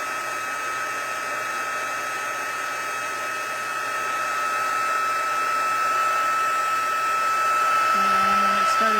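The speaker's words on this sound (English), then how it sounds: "You're going to hear my heat gun in a second because it needs to warm up." A heat gun blows steadily to melt embossing powder on a stamped card. It makes a close, continuous whirring hiss that grows slightly louder over time, with a faint tone entering near the end.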